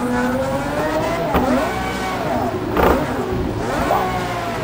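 A Pagani F1 GTR race car in Project Cars revs hard while its tires spin on snow, a loud, close engine note rising and falling in several sweeps.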